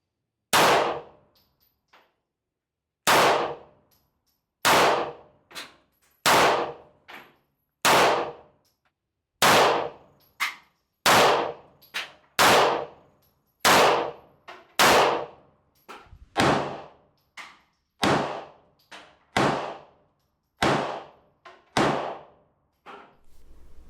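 Gunshots ring out one after another at a shooting range while a red dot sight is zeroed, about twenty loud sharp cracks with ringing decays, irregularly spaced and close, with no talk.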